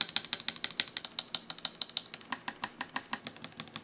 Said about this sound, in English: Surprisingly enough, it actually sounded pretty good. The spacebar did have a little bit of rattle